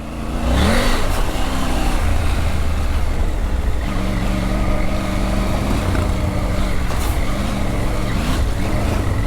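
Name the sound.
Triumph Tiger 900 Rally Pro adventure motorcycle engine off-road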